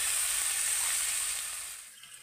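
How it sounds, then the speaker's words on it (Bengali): Onions fry in hot oil in a pan, giving a loud, steady hissing sizzle at close range that fades off over the last half-second. "এবার আমি পেঁয়াজটাকে ভেজে নেব।"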